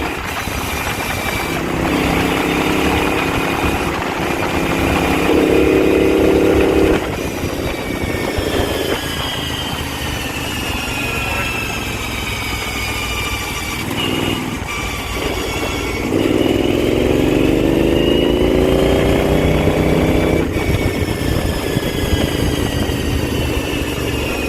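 A hot rod tractor engine droning along a back road on a test drive, its revs rising and falling in long sweeps as it shifts and accelerates, loud and close with steady road noise underneath.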